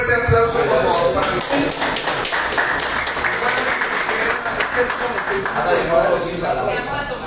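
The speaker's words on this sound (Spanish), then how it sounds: "un fuerte aplauso por favor" A live audience claps through a warm indoor space at a creative writing workshop reading, steady and dense for several seconds with murmuring voices mixed in.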